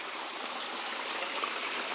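Clear water flows in a stream with a continuous close, even rushing and trickling wash and no other sounds.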